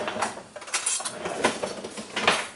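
A knife cuts a sealed package of ground turkey in half, giving scattered crinkly scrapes and clicks of blade against plastic wrap, close and fairly clear, with no talking.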